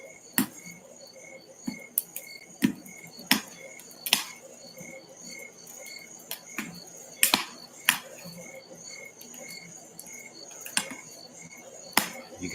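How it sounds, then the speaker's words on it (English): Crickets trill steadily through a summer night beside a fireplace, with sharp crackles and pops from the fire scattered irregularly over the quiet insect chorus. "You can hear the fire and the crickets."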